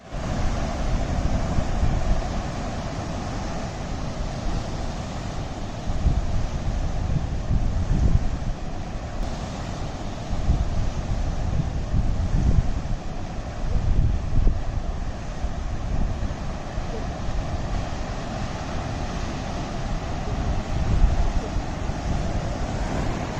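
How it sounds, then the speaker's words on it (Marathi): Sea waves wash continuously onto the shore at Kasheli beach, a broad steady roar with gentle swells in level and wind buffeting the microphone throughout. "समुद्र आहे हा"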